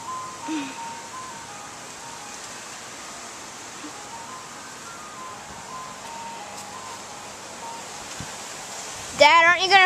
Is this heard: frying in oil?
no